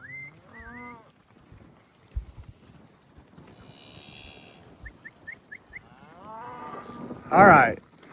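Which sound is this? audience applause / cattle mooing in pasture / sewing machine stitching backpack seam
cattle mooing in pasture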